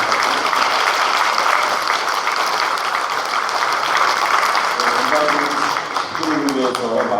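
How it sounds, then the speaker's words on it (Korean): Warm, sustained applause from a Catholic Mass congregation honoring their priest's anniversary, a dense wash of clapping with murmured voices and a few tonal sounds emerging near the end. "뜨거운 박수."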